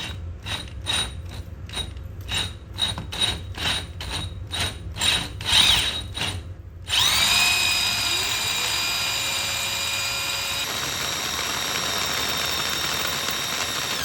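A power drill pulses in rapid rhythmic bursts, then settles into a continuous high whine as a carbide core bit in rotary-only mode grinds steadily through a house wall to make a hole for a mini-split air conditioner.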